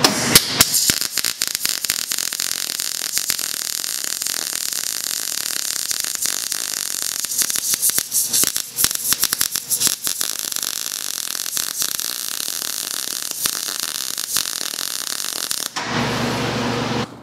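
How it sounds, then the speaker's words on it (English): Welding arc on 16 gauge (1.6 mm) cold rolled steel, running with an HTP ST arc function and sputtering and stuttering instead of welding cleanly. The crackle is loud and continuous, with irregular pops and dropouts, then cuts off near the end. "it's gonna be starting to like sputtering and stuttering, and it's not gonna weld right"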